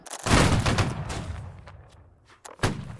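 A loud musket volley fired on command in the video game Holdfast: Nations At War. A long, rumbling burst of many overlapping shots fades out, then a single sharp report cracks near the end.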